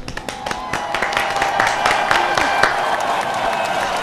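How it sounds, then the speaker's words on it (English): Studio audience breaks into a big round of applause and scattered cheering to welcome a guest onto a talk show, a dense steady wash of clapping with a few sharper claps standing out nearby. "Let's welcome him with a big round of applause"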